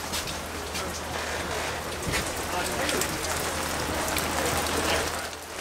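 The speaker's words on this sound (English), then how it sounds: "even though it's raining" Rain falls steadily on an outdoor RV show lot in Ocala, a close, loud, unbroken patter of drops on surfaces that swells slightly near the end.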